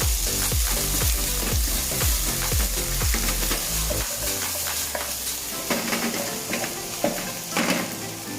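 Chinese sausage, prawns and squid stir-fried in a wok for Penang char koay teow, with steady loud sizzling and rhythmic metal spatula scrapes and clanks against the pan.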